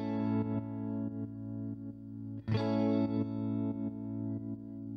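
Guitar chords run through a MOOER tremolo pedal, pulsing in a quarter-and-eighth-note rhythm with steady rhythmic volume dips and a fresh strum midway, loud and unaccompanied.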